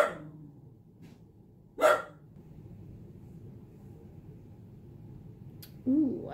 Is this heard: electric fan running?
no